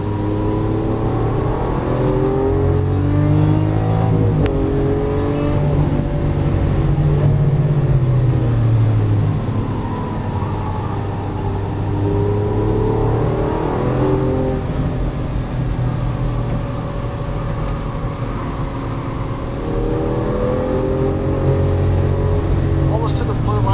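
A Lamborghini Aventador LP700-4 engine drones loudly from inside the car, rising and falling in pitch through repeated accelerations and gear changes, with occupants talking over the sustained roar.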